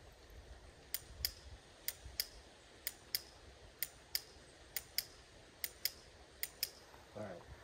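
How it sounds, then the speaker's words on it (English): Dry-fire practice with a Glock pistol: sharp, paired trigger clicks, one on the press and one on the reset, repeat at a steady pace across several cycles, crisp and close against a quiet room with faint rustling near the end. "The thing's going to click twice, you know, once when I press the trigger, once when I release it"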